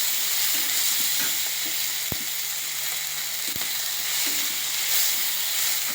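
Ginger paste and spices fry in hot oil in a pan, giving a steady close sizzle with occasional sharp clicks from a stirring utensil, no talking.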